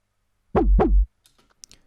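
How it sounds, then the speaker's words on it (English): A Paris bass patch built in Serum from two wavetables, heavy in low end, plays two short, loud, deep notes back to back, followed by faint scattered ticks and noise. "this bass called the Paris bass"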